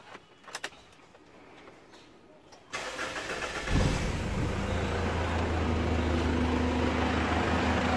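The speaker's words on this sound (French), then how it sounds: "Je vais démarrer son moteur en votre présence." A Mitsubishi Pajero 3.2 DiD diesel engine with a knocking fault cranks and catches, then settles into a steady, rumbling idle that continues loudly and evenly to the end.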